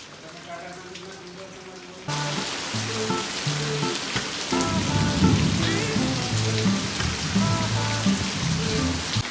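Heavy rain pouring down on a sunny day at a farm, starting as a light patter and then turning into a loud, dense downpour drumming on surfaces; faint voices underneath.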